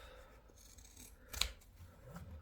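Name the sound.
scissors trimming fabric seam allowance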